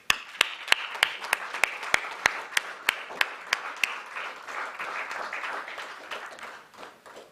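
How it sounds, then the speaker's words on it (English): Crisp, evenly spaced single claps ring out in a steady rhythm for about four seconds over a soft wash of audience applause. The applause lingers and fades after the rhythmic claps stop, as the curtain rises at a National Voters Day celebration. "We shall clap as the curtain rises"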